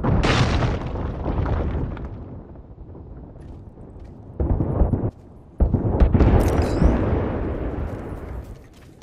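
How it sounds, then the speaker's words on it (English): Bangalore's airstrike in Apex Legends erupts in heavy booming explosions, one huge initial blast fading into rumble, then further close, loud detonations rolling in succession. "Heads down, airstrike danger close."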